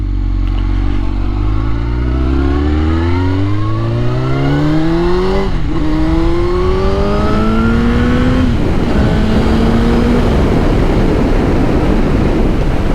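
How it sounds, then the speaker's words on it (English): A Suzuki GSXR1000 motorcycle accelerates hard through several gears, each pitch climb broken by a quick shift, loud and close with steady wind rush beneath. "My God, it really does accelerate."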